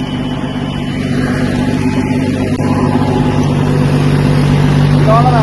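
A heavy-duty tractor-driven rotavator runs in a field, its engine producing a loud, steady, close drone that holds throughout, with voices talking faintly underneath.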